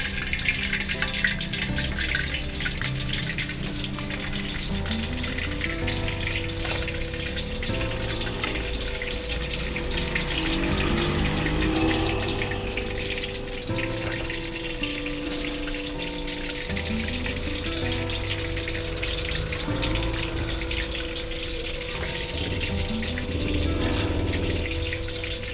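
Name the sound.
tofu frying in oil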